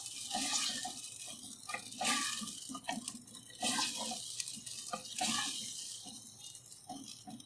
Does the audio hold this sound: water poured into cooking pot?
yes